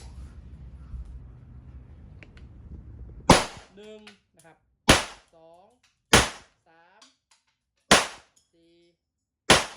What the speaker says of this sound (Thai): มาทดสอบปืนแบงกันนะครับ5นัดบรรจุ